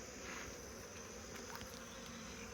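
Honey bees in a nuc hive buzz in a soft, continuous drone, faint and close, with no voices over it.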